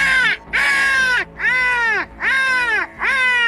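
A flock of crows cawing loudly and close by in Pakistan, five harsh drawn-out caws in a steady rhythm with short gaps between them, no talk over them.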